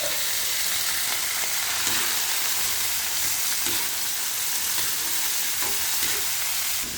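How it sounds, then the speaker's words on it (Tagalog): Beef tripe being stirred and sautéed with onion and garlic in a pan, a steady sizzle running throughout with soft scraping of the spoon against the pan, with no talking. "mekos-mekos lang po natin yan hanggang sa tumalab ang lasa at aroma ng ating ricado"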